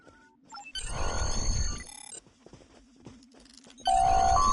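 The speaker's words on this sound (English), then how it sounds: "Press the X button to interact with the doorbell to notify Captain Taggart of your presence." Doorbell chime at an office door in Star Trek Online, synthetic bell tones sounding in two bursts over a low humming game ambience, with a rumbling swell between them.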